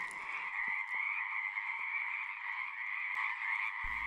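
A frog croaking in the wild, one sustained, steady trilling call close by that runs nearly unbroken, with a few faint clicks and a low thump at the end.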